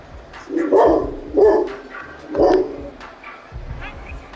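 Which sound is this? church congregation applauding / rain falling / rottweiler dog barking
rottweiler dog barking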